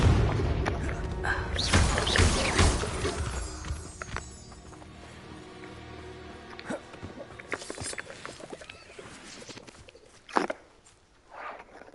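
A Confringo blasting spell bursts in Hogwarts Legacy amid loud combat: a heavy booming impact early on, then scattered thuds, clatter and smaller hits that fade toward the end.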